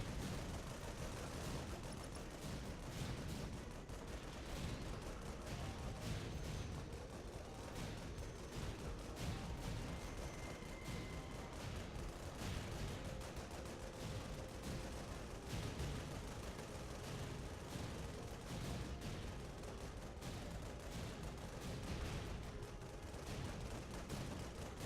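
Dense, rapid machine-gun fire crackles continuously in the Project Nimbus mech video game, a busy barrage of sharp bursts mixed with distant booms that carries on for the whole stretch.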